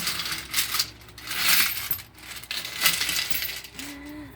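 Coins spill from an opened piggy bank in several bursts of bright metallic clinking and jingling, close up, with faint background murmur.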